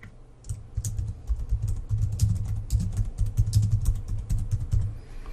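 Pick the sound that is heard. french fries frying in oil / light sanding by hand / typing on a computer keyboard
typing on a computer keyboard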